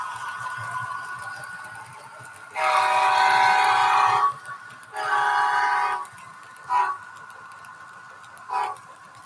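A model train with an onboard sound unit runs along, sounding a loud horn in a long blast, a second long blast and two short toots, heard close over a faint, low rumble.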